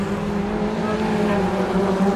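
BMW Compact Cup race cars lap Donington Park National in 2013, a sustained loud engine drone with a steady pitched whine heading toward Coppice Corner, close and unbroken.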